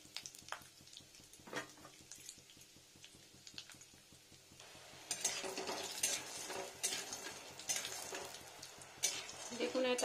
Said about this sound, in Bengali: দেখুন এটা ভেজে নিচ্ছি বড়িটা